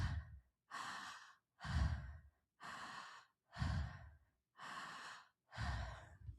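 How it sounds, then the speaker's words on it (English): Slow, deep breaths during a breathwork session, with seven long audible inhales and exhales in a steady, even rhythm, close to the microphone and heard alone without talk. "Just let the breath go in and out."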